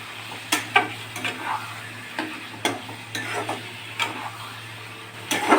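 Chicken stir-fried in a pan for Bengali chicken kosha: a spatula scrapes and clicks against the pan in uneven strokes over a low, continuous sizzle, close and clear, with no talking.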